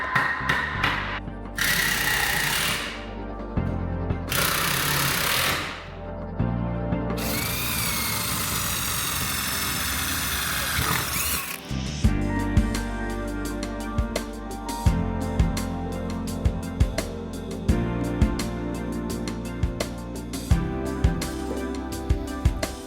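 A power drill bores through a stucco wall of a garage while a motorized bike rack is mounted, the motor whining in long sustained bursts with breaks, then a rougher, steadier grinding run with repeated sharp catches.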